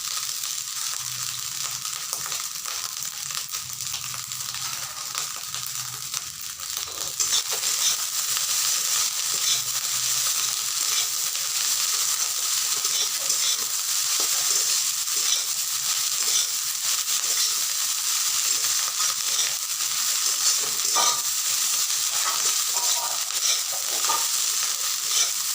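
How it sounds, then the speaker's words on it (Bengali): Fried eggs and leftover rice stir-fry in a hot pan with a steady, close sizzle and frying hiss, joined by intermittent scraping and stirring clatter as the mixture is tossed, growing slightly louder partway through. "এখন আমি যে ডিমগুলোকে ভেজে রেখেছিলাম সেগুলোকে দিয়ে দিচ্ছি।"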